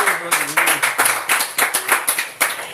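A church congregation clapping in a fast, steady rhythm, many hands together, loud and close, with singing voices faintly underneath.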